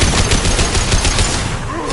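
Rapid automatic gunfire from a firefight in Mass Effect Legendary Edition, loud and dense, a continuous stream of shots with no pauses.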